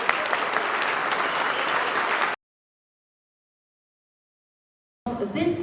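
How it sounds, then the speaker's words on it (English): An audience at the World Ranger Congress breaks into dense, sustained applause for about two seconds. Silence follows, then the applause picks up again. "A big round of applause for all of you."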